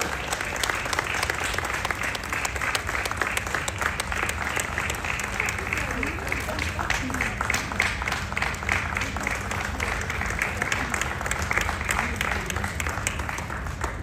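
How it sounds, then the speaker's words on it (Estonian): A crowd gives sustained, warm applause for the organizers at the book year opening at the Estonian National Museum, steady dense clapping throughout with some voices mixed in underneath. "Kõigile lilled ja palav aplaus."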